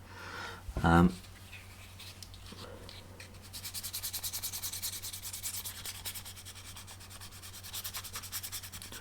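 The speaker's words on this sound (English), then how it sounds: "I'm just going in with this 400 grit because it's a little bit smoother than what we've been using, just to give it a nice finish" Sanding the hull of a Vanguard Models 33-foot Royal barge model kit with 400 grit sandpaper gives close, rhythmic back-and-forth rasping strokes after a brief knock and a pause.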